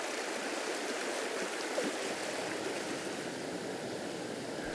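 A fast-flowing river stretch in Austria rushes with a constant, even hiss and gurgle of moving water, close and steady throughout.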